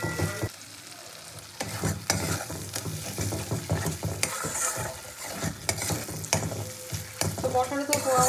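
Masala with a pinch of sugar is sautéed in a pan, producing continuous close sizzling and frying broken by repeated scraping stirs of a spatula, with no talking.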